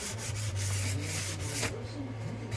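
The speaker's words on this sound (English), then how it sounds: "I'm using that 180 grit, very fine" Fine 180-grit sandpaper is rubbed over the edges of a piece of furniture, a soft, close rasping scrape in quick back-and-forth strokes, fairly quiet.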